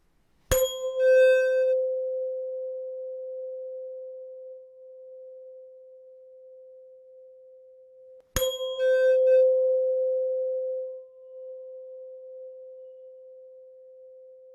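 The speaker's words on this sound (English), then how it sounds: "Let's try striking a tuning fork now to see how it looks." A tuning fork is struck twice, about eight seconds apart. Each strike gives a sharp metallic clink, then a steady pure tone that rings on and slowly fades, quiet and close with no voices.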